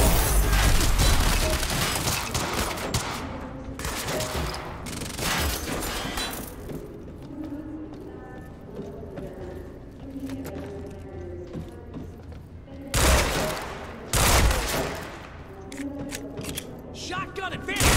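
Gunfire in the video game Quantum Break comes in loud, dense bursts near the start, in the middle and again near the end, with quieter mechanical clicks and game voices between them.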